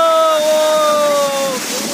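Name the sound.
waterfall pouring from a height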